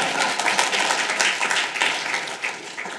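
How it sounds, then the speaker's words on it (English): A conference audience claps steadily for a few seconds, a dense patter of many hands at moderate volume with slight swells. "Feel free to applaud."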